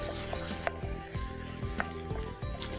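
Chili flakes and butter stirred in a hot pan on a cooking show, giving a steady close sizzle with scraping stir strokes and periodic utensil taps, no voice.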